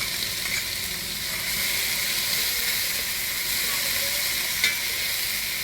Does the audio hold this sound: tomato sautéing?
yes